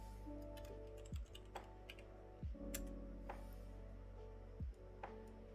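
Computer keyboard typing in the Starbase game tutorial, as a value is keyed into a YOLOL progress bar; soft, sparse keystrokes click over a steady humming machine drone, with a few heavier thuds.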